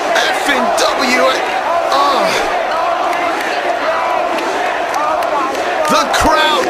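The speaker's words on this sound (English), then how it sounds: "Listen to the crowd. Listen to the fans." A wrestling crowd at a ladder match roars and cheers loudly and continuously in an arena, with shouting voices and occasional thuds mixed into the din.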